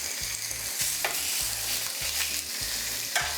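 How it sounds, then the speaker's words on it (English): Beef searing in a hot pan for birria tacos, with a loud, continuous close-up sizzle broken by regular scraping stirs, and no voices. "we're just going to sear off this beef"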